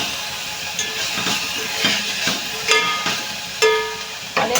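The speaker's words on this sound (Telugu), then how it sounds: "ఉల్లిపాయలు అనేది బాగా ఫ్రై చేసుకోవాలండి ఫ్రై అయ్యే వరకు" Onions frying in a pan with salt give a steady hiss and sizzle, with occasional louder crackles and spatters, close up and without talking.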